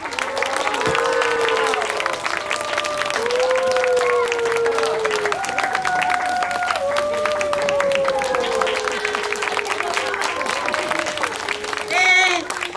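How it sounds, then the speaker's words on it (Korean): Continuous audience applause after a youth musical performance in a hall, dense steady clapping with some cheering while a speaker talks over the crowd through a microphone. "함께 격려의 박수 보내주신"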